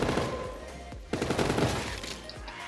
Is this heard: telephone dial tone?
no